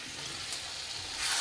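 Fried potatoes and small local chicken pieces frying together in oil, a steady broadband sizzle, close and fairly quiet, rising slightly at the end with no voices.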